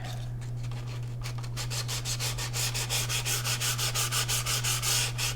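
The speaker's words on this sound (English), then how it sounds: "Let me grab some sandpaper real quick and just scuff up lightly." Sandpaper scuffs a part for an Estes Red Nova model rocket, with steady rhythmic back-and-forth rubbing strokes close by over a constant low hum, and no talking.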